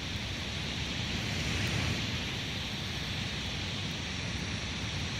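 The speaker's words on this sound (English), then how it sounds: "And there's some white noise." Continuous white noise from a Google Assistant speaker, a dense, unchanging rushing hiss that stays level and uninterrupted throughout.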